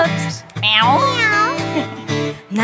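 A human voice imitates a cat's meow, a drawn-out, wavering, pitch-sliding mew that is loud and close, lasting a couple of seconds.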